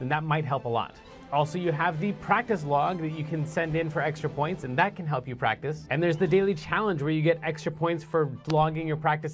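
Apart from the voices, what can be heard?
No everyday noise stands out behind the speech.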